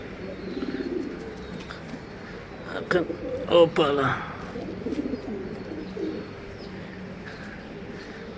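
A rescued pigeon with clipped wing feathers coos softly a few times, the low cooing running under a person talking nearby.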